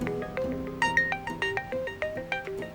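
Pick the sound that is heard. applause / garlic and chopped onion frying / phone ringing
phone ringing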